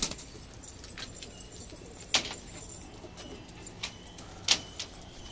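Pigeons in a coop heard faintly at a distance amid quiet outdoor ambience, with a few sharp metallic clinks and rattles standing out at intervals.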